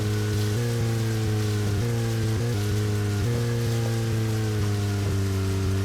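Rain falls in the video game Deadly Premonition as a constant soft hiss, layered over a steady low droning hum that shifts pitch slightly every second or so.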